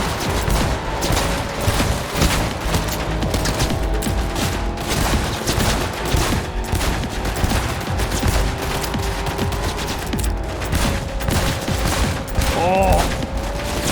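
Sustained automatic gunfire from a car passenger seat in Cyberpunk 2077, a dense, loud rattle of rapid shots running almost without pause under the engine rumble, with short bursts of speech over it.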